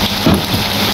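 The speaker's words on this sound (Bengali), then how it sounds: "আর বৃষ্টি হচ্ছে।" Rain falling at an outdoor meat market, a dense even hiss of steady rain close by for about a second, with no talking.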